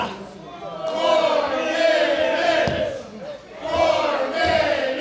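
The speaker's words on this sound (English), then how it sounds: "Crowd soundly behind 4 minutes of heat here, guys." A wrestling crowd cheers and roars in swelling waves through an arena, surging loud twice, while a commentator talks over the noise.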